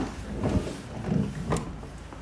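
Rear doors on a metallic grey Volkswagen Crafter panel van are opened, giving a few soft, close mechanical clunks and sliding rattles spread over a couple of seconds.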